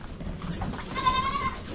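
A goat bleats on a farm, a short wavering call close by, with soft background noise and faint rustling around it.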